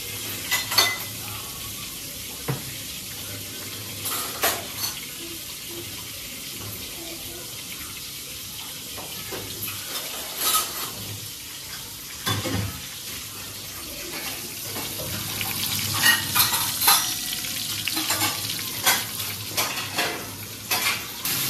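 Asafoetida and cumin fry in hot butter and oil for a home-style veg kurma, giving a steady close sizzle broken by scattered clicks and scrapes of stirring.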